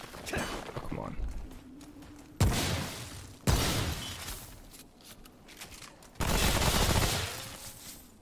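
Loud bursts of gunfire from the video game Remnant: From the Ashes come in repeated volleys mixed with shattering impacts, while a player talks over the shooting.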